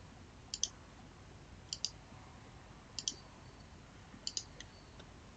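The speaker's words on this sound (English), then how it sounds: "So I'm going to click on the screen and put the pin in" Fingertip taps on the touchscreen of a Trezor hardware wallet while a PIN is entered, about eight crisp, quiet clicks falling in pairs at roughly one-second intervals over near silence.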